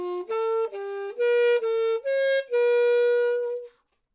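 A band wind instrument plays a slow stepwise scale in thirds, sustained notes each tongued separately, ending on a long held tone, solo and close.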